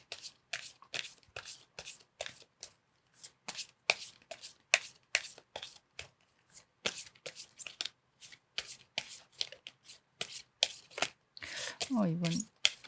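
A deck of oracle cards is shuffled by hand for a tarot reading, with repeated crisp, close riffling and slapping bursts in an uneven rhythm, and a brief voice near the end.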